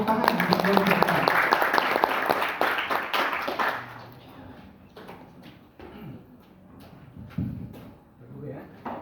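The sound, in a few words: applause for team A in a Quran quiz contest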